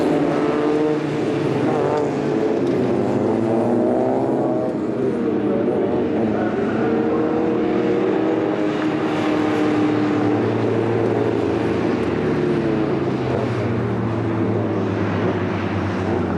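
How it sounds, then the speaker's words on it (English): A pack of Super Coupe Cup saloon race cars, including a Renault and a Volkswagen Polo G40, rolls around the circuit in formation behind a pace car, producing a loud, continuous engine drone that holds steady throughout. "Competitors coming round in formation behind the pace car"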